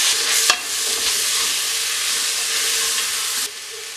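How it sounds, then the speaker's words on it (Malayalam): Tomatoes sautéing in a pan of Kerala-style beef curry masala give off a steady, loud broadband sizzle and hiss throughout, with a sharp stir or clatter near the start and the sizzle dipping slightly toward the end. "നമ്മളിവിടെ എടുത്തു വെച്ചിരിക്കുന്ന തക്കാളി ചേർത്ത് കൊടുത്ത് വഴറ്റുക"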